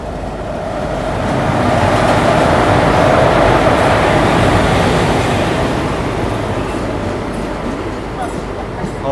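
The Gorakhdham SF Express (12556) running on the New Delhi to Gorakhpur line, a loud continuous rumble and rush of wheels on track swelling and then easing slightly, with a voice talking over it.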